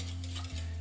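Steady stirring of eggs in a pot for lemon curd, with a continuous low hum and faint scraping, a brief dip midway before the sound resumes.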